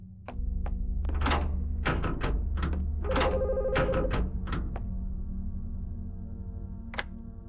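A telephone rings inside The Skin Stapler video game, sounding as a series of sharp, bright bell-like bursts over a steady low hum from the game, then falling quiet before one last isolated ping.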